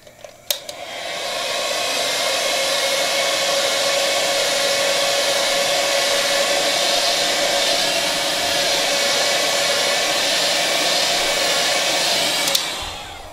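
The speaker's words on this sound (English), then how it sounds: "we're going to want to take our heat gun, and we're going to start warming a corner of this bezel here" A heat gun blows steadily while warming the corner of the screen bezel on an MSI GS73 Stealth laptop, starting after a brief click and running as a loud, even whooshing drone for about ten seconds before cutting off.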